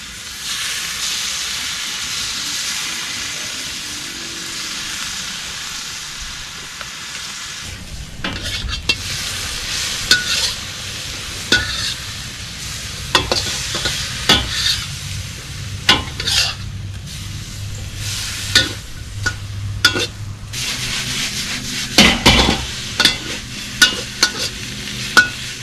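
Steak and peppers are stir-fried in a wok, giving a continuous close sizzle with frequent sharp clacks and scrapes of a utensil stirring against the metal.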